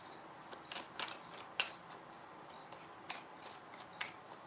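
Tarot cards are shuffled by hand in a quiet room, a series of soft, crisp riffling and slapping bursts spaced irregularly, close and faint, with no talking.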